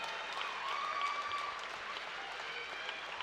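An audience applauds after a women's Muay Thai fight, a steady, even wash of clapping heard from some distance at low volume.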